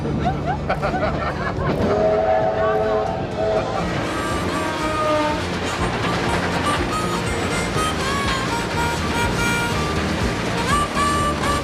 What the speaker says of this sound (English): It's not often organisers can get permission to run 3 steam trains side by side on a public track.